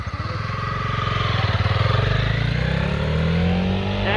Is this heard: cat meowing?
no